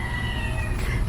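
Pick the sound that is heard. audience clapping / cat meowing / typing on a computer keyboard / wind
cat meowing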